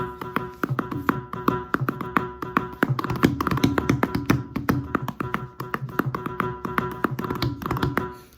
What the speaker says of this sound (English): So if you have to play the Mridangam now